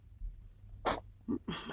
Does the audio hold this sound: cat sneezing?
yes